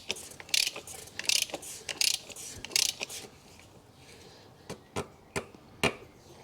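A ratchet clicks in short bursts as it snugs down the plastic oil filter housing on a 2014 VW Passat 2.0 TDI diesel, several quick rattling pulls followed by a few separate sharp clicks, close and alone.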